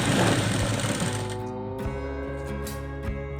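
An electric sewing machine stitching a plain blouse runs in a steady, fast motor whir with rhythmic needle chatter, close and continuous, slowing slightly toward the end.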